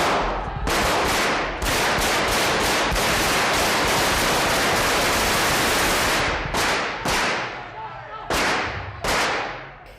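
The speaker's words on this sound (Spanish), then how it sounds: "oigo por la radio por los disparos del Congreso" Gunfire in the Spanish Congress carried over a radio broadcast: dense, rapid volleys of shots crackling almost nonstop, loud and harsh, with a few brief gaps between bursts near the end.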